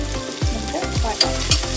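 Sliced big onions fry in a pan for a ghee rice and chicken curry, giving a steady loud sizzle with a few scraping stirs.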